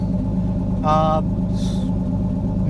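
A beater car engine idles through a straight flexible pipe with no muffler, giving a constant close low rumble, broken by a brief high whine and a short hiss.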